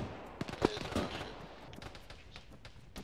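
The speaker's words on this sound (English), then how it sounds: "There's still a tank shooting a machine gun at us from the southeast." Machine gun fire from a tank in a military video game, a few sharp bursts followed by scattered distant pops. The firing is quiet and slightly far off, with faint voices underneath.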